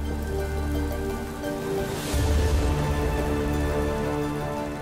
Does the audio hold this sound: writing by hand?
no